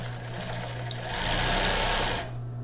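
A sewing machine runs zigzag stitches along a bra edge, then backstitches, a steady close mechanical whir that rises briefly in the middle before stopping.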